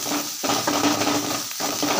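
Onions, curry leaves, dried chili and asafoetida sautéing in a pan: a loud, continuous sizzle broken by brief pauses and stirring scrapes, heard up close.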